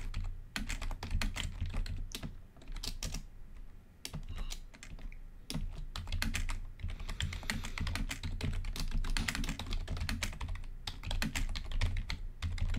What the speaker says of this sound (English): You can hear it in his typing.